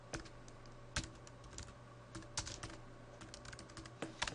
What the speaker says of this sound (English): right here I'm going to type my title for my spreadsheet